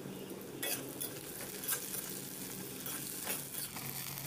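Ginger garlic paste fries with onions in a pan, a constant crackling sizzle broken by a few sharp scrapes and clinks of a spoon stirring against the metal.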